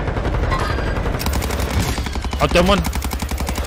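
Rapid automatic gunfire rattles in a Warzone match, a fast, steady stream of shots dominating the mix while a player speaks briefly over it.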